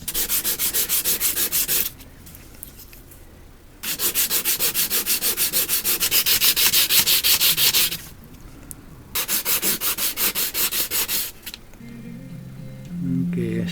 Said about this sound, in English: Okay, I started sanding.